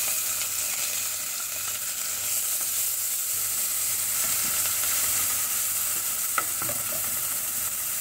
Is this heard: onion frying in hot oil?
yes